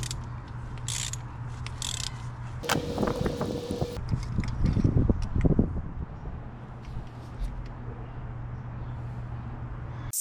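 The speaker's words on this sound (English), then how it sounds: "Now we're gonna use a 5/8 socket, spark plug socket," A ratchet with a 5/8 spark plug socket loosens spark plugs on a V6 Toyota engine, a run of close ratcheting clicks with some mechanical clatter and no voices.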